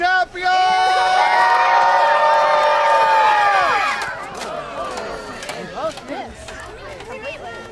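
Spectators at a knights' tournament roar for their champions before the third round, a loud swell of overlapping yells and battle-cry whoops that breaks off into scattered shouts and crowd chatter.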